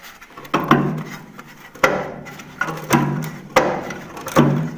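An old car body panel being torn out makes repeated loud, rough scraping and wrenching bursts, roughly one a second, each with a sharp onset and a grinding tail, with no voices.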